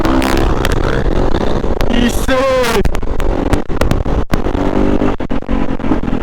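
A Kawasaki KX450F dirt bike roars loudly and continuously as it exits a corner on its back wheel, engine revving up in a rising sweep before settling into a steady, close, aggressive drone.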